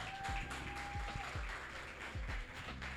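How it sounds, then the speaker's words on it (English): An audience at a school safety luncheon gives a round of applause, a continuous wash of clapping at a moderate level with some low thumps scattered through it. "Can we give them a round of applause?"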